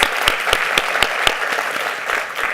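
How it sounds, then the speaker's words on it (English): Applause from an audience at a panel discussion on workforce skills and jobs, sharp distinct claps recurring in a steady rhythm, moderately loud and close, with no talk over it. "And that deserves applause."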